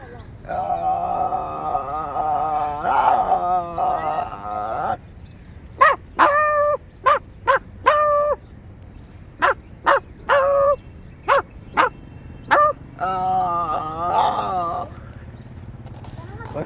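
A man imitates a dog barking, giving a string of short, sharp woofs with uneven gaps after some brief vocalizing, close and loud.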